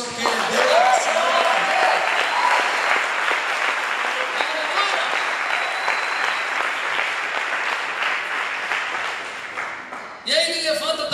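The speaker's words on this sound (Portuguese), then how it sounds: "Você pode aplaudir o Senhor, porque Deus é o Senhor." A church congregation applauds during a sermon, a sustained, even roar of many hands clapping that holds for about ten seconds, with voices and cheers mixed in before a brief dip and a renewed burst.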